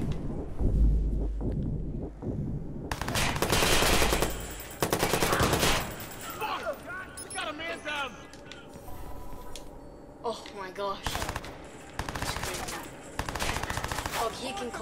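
Enemy gunfire in Watch Dogs comes in loud, close automatic bursts separated by short gaps, with scattered single shots and a voice talking between and over them.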